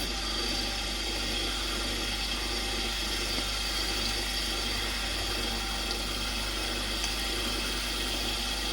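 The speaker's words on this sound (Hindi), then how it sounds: "तो चलिए फटाफट से इनको फ्राई करेंगे" Chicken macaroni pockets fry in hot oil, giving off a continuous, dense, crackling hiss at a steady moderate level, with no talking.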